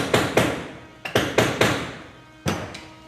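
Metal strip for a hobo fiddle being bent in a vise, heard as six sharp hammer-like strikes close by, grouped in two bursts of three with ringing decay after each.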